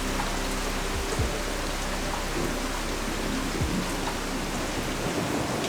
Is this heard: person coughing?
no